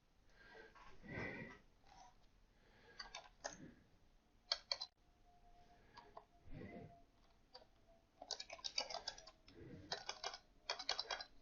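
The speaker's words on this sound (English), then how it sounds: "I'm going to type." Typing text on a computer keyboard, soft close key clicks coming in uneven bursts with pauses between, quiet and alone.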